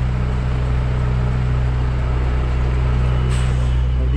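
A truck's air brake releases a brief sharp hiss partway through, cutting above a loud, steady low engine drone.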